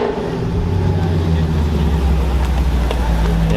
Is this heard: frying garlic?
no